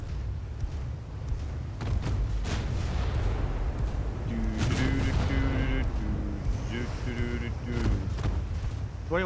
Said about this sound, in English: Looks like only 3 guns are firing anyway.